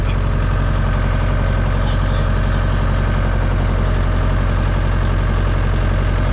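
A heavy off-road vehicle engine, climbing a chain-covered slope with the differential locked, drones loudly and steadily up close, a continuous low rumble with no clear rise in pitch.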